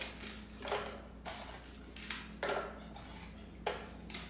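Crunchy dried bread pieces breaking up in a blender, a series of faint, close crackling crunches in irregular bursts over a low steady background hum.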